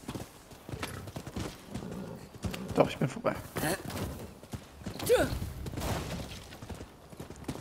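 Galloping horse hooves in the video game Rise of the Ronin, a steady clip-clop rhythm while riding, heard under someone talking in German.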